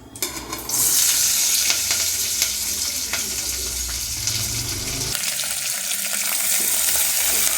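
Cardamom, cloves, cinnamon, onion and curry leaves hit hot oil with a loud, close, continuous sizzle and crackle, settling into a steadier fry near the end with no voices.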